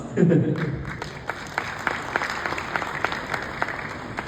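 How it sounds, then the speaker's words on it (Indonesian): Audience applause at a corporate AI center launch event: a burst of clapping from a crowd in a hall, sustained and fairly close, with a voice speaking over it. "Please give a round of applause."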